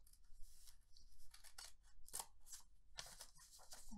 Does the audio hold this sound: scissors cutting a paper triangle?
yes